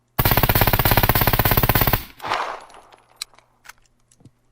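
Mk18 or AS Val rifle in the game Scum firing a rapid full-auto burst of about two dozen loud shots, then a short echoing tail and a few scattered clicks and clanks, with no talking.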